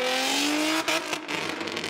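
Nissan 350Z engine and exhaust rise in a brief, loud rev, then cut off abruptly, leaving a rough, crackling exhaust burble that lingers for the rest of the moment.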